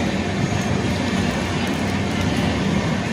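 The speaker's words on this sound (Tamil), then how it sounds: "இதுதான் அந்த ட்ரெயின், அம்ரித் பாரத் எக்ஸ்பிரஸ்" An Amrit Bharat Express train, a push-pull multiple-unit with engines at both ends, rushes past close by as a continuous loud, broadband roar of wheels and rails, with no breaks.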